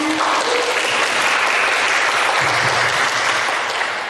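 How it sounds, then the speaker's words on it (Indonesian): Steady, dense applause from a group at a school teacher-training session, continuous clapping at close range with a faint voice briefly under it. "tepuk tangan buat semuanya"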